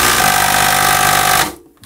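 A Hitachi impact driver runs in a loud, buzzing hammering burst for about a second and a half, then cuts off abruptly as the tool stops.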